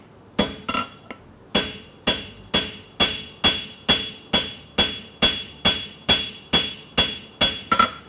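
A hammer strikes a punch on a horseshoe clip in a steady series of about fifteen sharp, ringing metal blows, close and loud, each clang decaying before the next.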